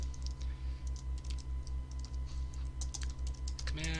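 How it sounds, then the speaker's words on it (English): Steady keyboard typing, quick clicky keystrokes in a continuous run, close by, with a low rhythmic hum underneath. "having some trouble typing."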